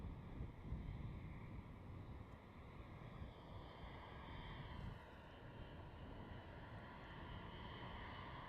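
Jet airliner engines rumble at night on Schiphol's runway 36L during a departure line-up, a continuous distant roar with rising and shifting whine tones, buffeted by wind noise on the microphone.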